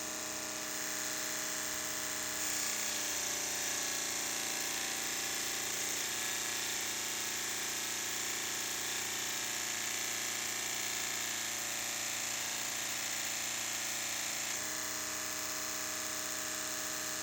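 A power tool grinds steadily to sharpen a freshly squared tool edge, a continuous high whine with a brief change in pitch partway through before it settles and runs on without talk.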